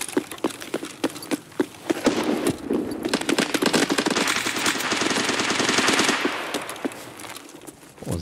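Gunfire in the video game Escape from Tarkov pops as scattered single shots, then runs together into dense automatic bursts that swell and fade, heard at a distance without any talking.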